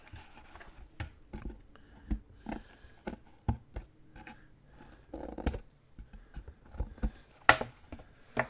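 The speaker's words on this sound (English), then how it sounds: "I'm going to trim this a little bit more right here" Scissors trimming a chipboard file folder, giving a string of short, crisp snips and paper rustles at close range in a quiet room.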